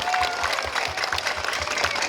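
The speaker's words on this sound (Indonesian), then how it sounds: "Tepuk tangan dulu." Audience applause at a civic gathering in Makassar, dense steady clapping from a crowd throughout, fairly loud and continuous with a faint murmur underneath.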